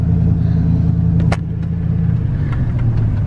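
A long-dormant car engine runs steadily just above idle, a low, smooth rumbling purr held on a barely pressed throttle, close and continuous with one brief sharp knock partway through.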